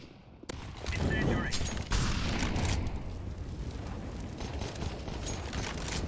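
A molotov cocktail bursts and burns in the video game CS:GO, a loud rushing blast followed by sustained roaring crackle, with voices talking over it.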